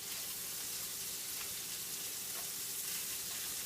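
Bacon frying in a pan of rendered grease gives a continuous dense crackling sizzle, soft and steady throughout, with no voices over it.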